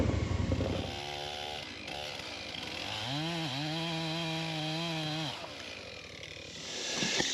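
A Husqvarna chainsaw needing maintenance cuts into a beech log, its engine revving and bogging with rising and falling harmonic tones, nearby and fairly loud, with no talk.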